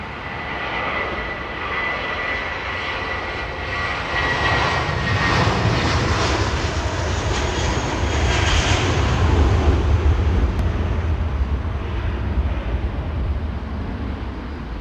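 An Air Canada jet's GE90 engine spooling up at London Heathrow Airport, a loud, steady, broad roar that swells slightly midway, heard from a distance outdoors with no talk.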